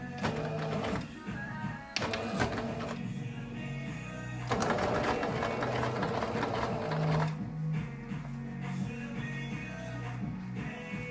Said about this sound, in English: we're gonna back stitch again